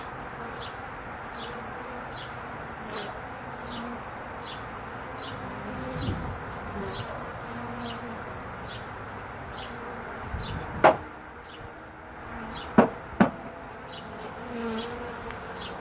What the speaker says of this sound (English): got a whole mess of bees on the back side of this thing